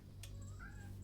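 Faint, short cat meow heard indoors, a single rising call over a low steady background hum.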